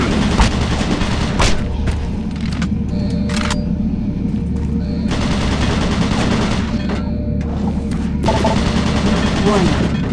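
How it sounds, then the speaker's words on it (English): Automated turret guns fire in DOOM 3: BFG Edition, rapid loud gunfire bursts with sharp onsets over a constant low mechanical rumble, continuing throughout. "Warning, automated turret guns online."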